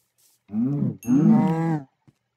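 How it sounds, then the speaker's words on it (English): Cows in the video game Minecraft give two loud, close moos in quick succession, the second longer than the first, heard alone without talk. "Two cows. You're mine."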